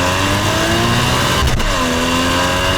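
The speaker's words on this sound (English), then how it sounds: "it has a flat 6, so it sounds amazing" A Porsche 981 Cayman's flat-six engine hums steadily under a rising whine, with a brief rev around the middle before settling back into a smooth, sustained drone.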